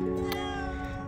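A cat meows close up, one drawn-out call with steady harmonic tones lasting about a second, heard alone without talk.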